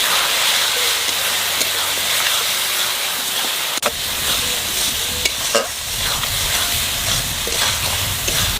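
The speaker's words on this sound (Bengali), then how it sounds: "মশলা কষানো হয়ে গেছে" Masala with turmeric and salt fried and stirred in a pan for a fish curry, a steady loud sizzle with scraping stir strokes running throughout, a couple of sharp clanks near the middle.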